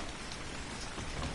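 Rain falling at night in the video game ARK, a soft continuous patter of drops on surfaces with a faint low rumble underneath, quiet and steady with no voices.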